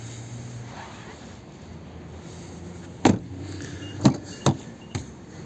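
Front passenger door of a 2016 Nissan Leaf electric car, imported from Japan: a quiet cabin hum, then four sharp, close clicks and thuds spaced about a second apart as the door and its latch are worked.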